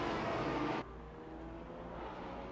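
Maserati MC GT4 race car engine in Assetto Corsa Competizione, a loud steady drone with strong harmonics that drops suddenly in level after a moment, as if shifting or lifting off, then holds a lower hum.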